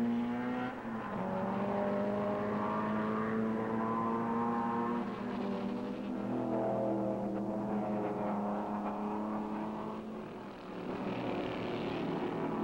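Early-1960s race cars at Mosport thunder past in a pack, engines roaring loud and close with rising and falling pitch as several cars pass in succession over a steady, continuous din.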